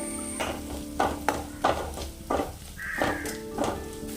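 A spoon scrapes and stirs a masala with green chillies frying in coconut oil for prawn roast, soft repeated strokes over a steady low sizzle, with no talking.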